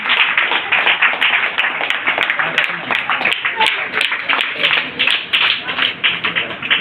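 A crowd at a church prize-giving applauds a winner with brisk, steady hand claps, a thick, even rattle of many hands that keeps up strongly without letting up.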